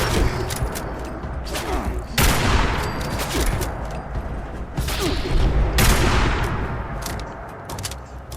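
Gunfire from a sniper rifle rings out in the video game Fallout 76, loud sharp shots with booming tails spaced a couple of seconds apart over a busy game background.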